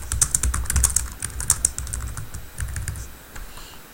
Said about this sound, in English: select all of it and then type a random sentence